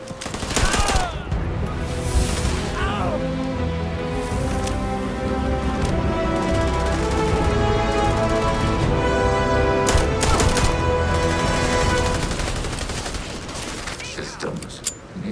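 Sustained, dense gunfire roars through a village raid in the video game Starfield, with a pistol among the weapons, a continuous loud barrage of overlapping shots and rattling bursts with little pause.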